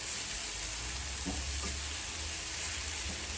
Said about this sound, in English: You can hear them sizzling nicely.